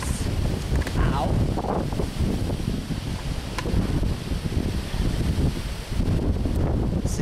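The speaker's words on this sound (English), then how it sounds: "Today is the windiest day on record in 10 decades." An extreme October wind storm in Hollandtown, Wisconsin, with gusts over 50 miles an hour, roars steadily and buffets the microphone throughout, its loud rushing broken briefly by faint speech.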